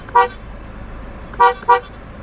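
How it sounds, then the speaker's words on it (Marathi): Three short horn toots from an MG Astor car, one then a pair close together, loud and near with no talk. "हा जो आहे तो गाडीचा हॉर्न आहे"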